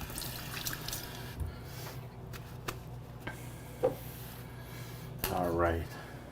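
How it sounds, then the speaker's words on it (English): Tilapia fillets are rinsed under a running kitchen tap. Soft water splashes and drips play against background noise, and a louder gush of flowing water comes near the end. "Little rinse again."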